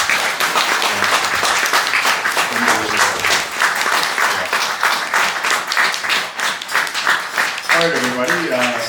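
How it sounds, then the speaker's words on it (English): Wedding guests applaud the father's speech at a reception, loud dense clapping filling the room, with voices and cheers mixed in, especially toward the end. "Round of applause for my dad for that speech."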